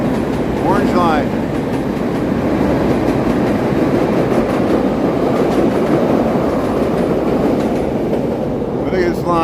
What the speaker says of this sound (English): We'll get the L train there. Look at that orange line.